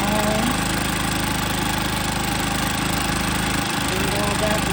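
A Harbor Freight Predator generator engine runs steadily after a new piston, connecting rod and gaskets were fitted, giving a loud, continuous mid-pitched drone with a faint knock, close to the microphone.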